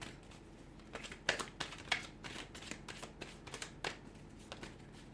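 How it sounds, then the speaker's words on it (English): Quiet riffling and flicking of tarot cards being shuffled, a series of soft papery bursts with a few sharper snaps, close by and without talk. "I'm going to give the cards a shuffle"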